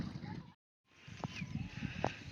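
Two short bleats from a sheep stand out over outdoor background noise in a scenic ghat area, with a brief silent gap near the start.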